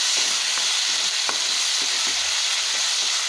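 Tomatoes sautéing in a pan with turmeric and rock salt, a steady broadband sizzle throughout with soft intermittent stirring scrapes, close and fairly loud with no voices.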